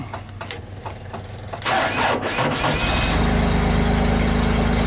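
Gasoline engine on a JLG baby scissor lift cranks and starts, jumping to a loud steady running drone after a few seconds, heard close with no talk.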